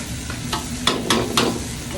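Tomato sizzling and frying in a pan of oil for sambar, a steady close crackle with a few stirring scrapes punctuating it.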